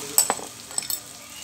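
A spoon stirs ground spice paste and turmeric into a frying field bean vegetable dish, with a few quick scrapes and clinks over a faint sizzle and no talking.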